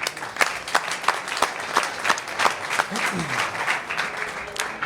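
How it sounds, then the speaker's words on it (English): An audience at a conference session on multi-tenant Kubernetes applauds, a steady patter of many hands clapping at moderate distance for several seconds. "A round of applause, please, for Fabian."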